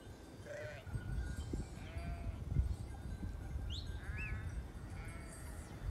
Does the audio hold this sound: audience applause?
no